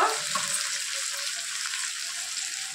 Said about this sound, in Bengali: টমেটোটা দিয়ে দিচ্ছি। আমি একটা মোটা টমেটো দিয়েছি, টমেটোটাও বেশ কিছুক্ষণ একটু নাড়িয়ে নেব।